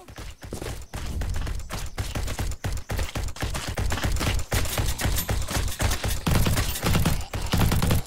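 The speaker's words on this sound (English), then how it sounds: "I want to see what these nail guns do" Nail guns fire at zombies in a first-person zombie tower defense shooter, a dense, loud, rapid stream of thudding shots that continues almost without pause, with no talking.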